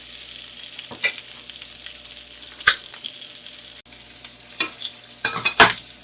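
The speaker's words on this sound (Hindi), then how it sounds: "प्याज ले लें, इस तरह से काट लें। 2 मिनट से इसे आप फ्राई करें।" Sliced onions and ginger fry in a pan for a chicken do pyaza, with a soft background sizzle broken by several sharp scraping stirs of a spatula, close and fairly quiet.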